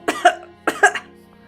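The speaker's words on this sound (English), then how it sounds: "please, don't cough and laugh at the same time" Two sharp coughs a little over half a second apart, each a quick double burst, close and fairly loud with nothing else behind them.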